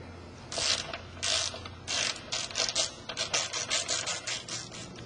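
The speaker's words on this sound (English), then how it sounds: "I'm going to go ahead and undo the pinch bolts on the other fork." Hand ratchet clicking in quick rhythmic bursts while undoing pinch bolts on a motorcycle front fork, up close and moderately loud, starting with slower separate strokes and speeding into a steady run of clicks.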